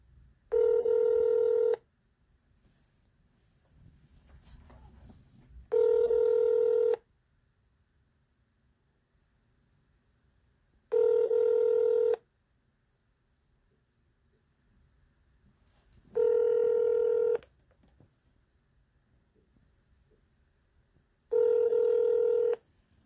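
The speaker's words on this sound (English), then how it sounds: "It's been ringing for over a minute." A telephone rings in steady, evenly spaced electronic tones, five rings with long silent gaps between them, clear and close.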